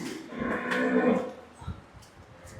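A cow moos loudly at a cattle farm, one drawn-out low call in the first half, followed by quieter scattered thumps and shuffling around the animals.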